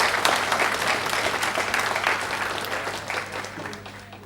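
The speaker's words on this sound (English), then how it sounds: "So make an applause for yourself." Audience at a Model UN closing ceremony applauding the delegates, a full, steady round of clapping throughout that slowly tapers off.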